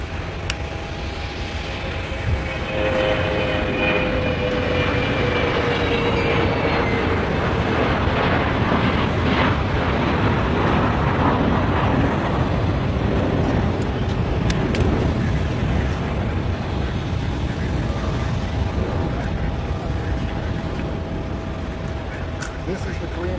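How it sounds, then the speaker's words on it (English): A Korean airplane's jet engines roar loud and steady for over twenty seconds, a broad continuous rumble with a faint whine, with no talk over it. "This is the Korean airplane."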